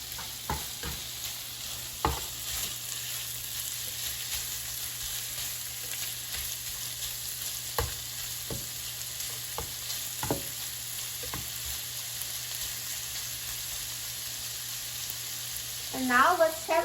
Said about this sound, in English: So let's add the steak and then coat it